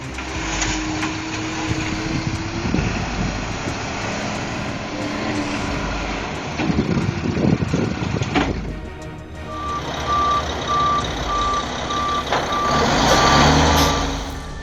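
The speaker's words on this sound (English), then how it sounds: "Check out this roll-off truck in action." A roll-off truck works with a steady engine rumble and heavy mechanical grinding and clanking, then a regular high-pitched reversing beep repeats in the later part while the engine keeps running.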